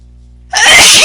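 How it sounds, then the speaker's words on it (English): A single loud, close sneeze bursting out abruptly after near silence. "Goodness gracious, I'm really sneezing."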